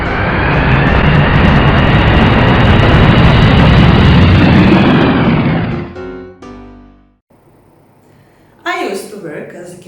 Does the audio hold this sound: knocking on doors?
no